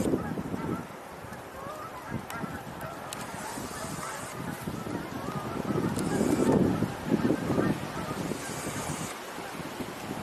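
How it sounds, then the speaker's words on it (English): Geese honking at a distance, a few birds calling intermittently over steady wind and outdoor background noise at a site with no open water, with no talk. "I hear geese again."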